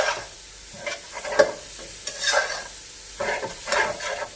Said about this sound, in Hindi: शिमला मिर्च, इसे भी जूलियन काट लिया है हमने। अच्छी तरह से सौटे करेंगे।